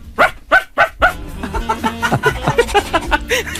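A dog barks in a quick series of sharp, loud yaps, then the barking gives way to a jumble of lively voices and studio chatter from a Chilean radio show.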